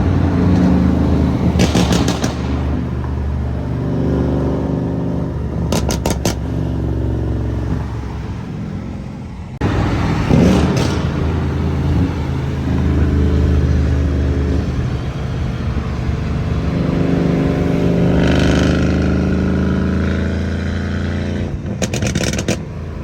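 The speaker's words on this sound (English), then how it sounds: "Car is still not warmed up yet. I just started the car" A Mercedes-AMG car engine running right after a cold start, a loud, steady low rumble with rough idle pulsing that continues throughout.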